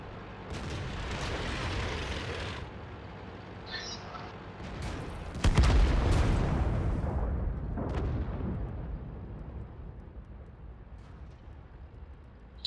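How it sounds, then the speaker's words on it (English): Artillery fire in a tank video game: a deep, loud boom bursts out partway through and rolls into a long rumbling decay over steady low battle noise, with fainter distant thuds earlier and no talk. "Artie just shot. Artie fired."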